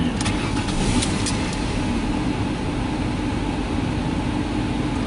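A car engine runs with a steady, loud hum after starting, with a few faint high clicks early on and no talking.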